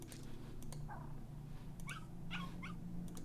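A dog whimpering in the video game Grim Tales: several short, high, plaintive whines spread over a few seconds above a low steady hum, fairly faint.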